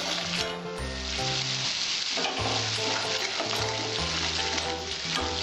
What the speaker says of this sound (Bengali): আমি 1 মিনিট কষিয়ে নেব